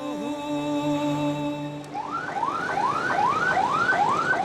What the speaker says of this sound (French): Toute sirène hurlante,